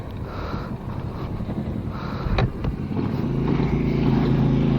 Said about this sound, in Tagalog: ride na natin tong Euro Rock R125 version 2. Tumatalon to ha. Ang lakas ng torque nito.